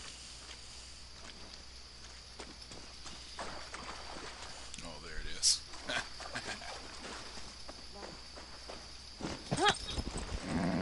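Hooves of a horse in Far Cry 6 clip-clop in an uneven run across the scene, mixed with game effects and someone talking over them.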